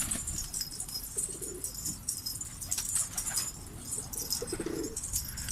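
Pigeons coo in a loft, soft repeated throaty calls over a busy mix of faint chirps and light rustling, moderately close with no talk.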